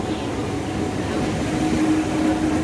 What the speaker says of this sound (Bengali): তো গাইস ট্রেন চলে এসছে,